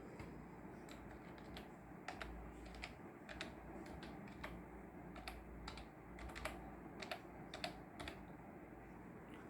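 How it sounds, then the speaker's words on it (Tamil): Username and password are typed on a computer keyboard as steady, close, crisp key clicks in irregular bursts over a faint background hum. "ஸோ இப்போ டைப் பண்ணிட்டு இங்கே பாஸ்வேர்டும் டைப் பண்ணிக்கிறேன்."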